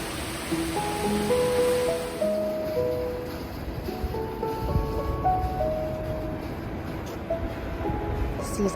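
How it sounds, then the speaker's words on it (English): Rough sea off Positano on a rainy day: a steady, full-bodied roar of surf that holds throughout, with faint tonal sounds threaded through it. "Sea's getting rough."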